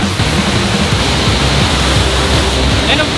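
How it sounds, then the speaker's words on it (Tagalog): Mother Falls, a tourist waterfall in Baler, Aurora, gives a loud, steady, broadband roar of rushing water heard up close, constant and unbroken throughout. "nandito na tayo ngayon sa one of the tourist destinations ng Baler, Aurora, ang Mother Falls"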